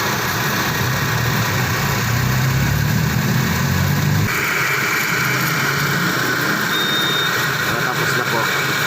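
The engine of a 2007 Honda Civic with a leaking power steering pump runs while the car sits lifted, a steady close idle drone with a shift partway through and a thin electronic beep.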